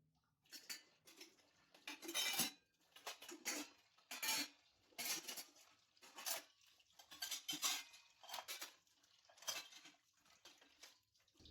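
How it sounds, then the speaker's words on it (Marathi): Cutlery and dishes, including plastic Tupperware containers, are loaded into a dishwasher rack one after another, making a series of close, light clinks and clatters in irregular bursts with short pauses between, and no talking. "आता मी ही सगळी भांडी अशा पद्धतीनं घेते यामध्ये"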